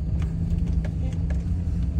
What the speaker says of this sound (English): I don't like these cars that are coming at us